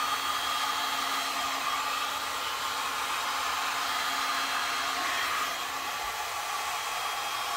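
A hair dryer or heat gun blows steadily for several seconds with a constant airy roar and a faint motor hum, close and alone with no talking, used on alcohol ink tile work.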